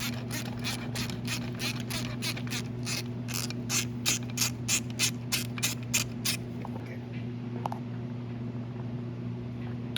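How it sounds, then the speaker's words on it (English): A ratchet removes the nut holding the starter power wire on a Yamaha Bruin 350 ATV, giving a rapid run of about a dozen close, clicking pawl strokes over a steady hum, then stopping. "You got to take off this nut that holds the power wire."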